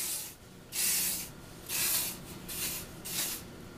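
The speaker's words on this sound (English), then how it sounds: "I'm gonna spray the whole head with a light coating of faux finish" An aerosol of faux-finish hair spray sprays onto a head of hair in several short hissing bursts with brief pauses between, close and fairly soft.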